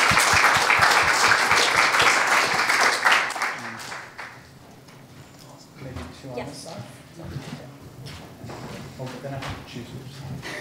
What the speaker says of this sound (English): a round of applause for SFU 350.